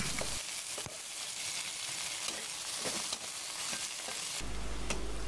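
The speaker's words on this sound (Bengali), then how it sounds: "এখন দিয়ে দিচ্ছি কিছু রসুন কুচি, কিছু পেঁয়াজ কুচি দিয়ে বেশ কিছুক্ষণ ভেজে নেব।" Chopped garlic and onion frying in a pan, a continuous hissing sizzle with occasional stirring clicks and scrapes, fairly constant in level.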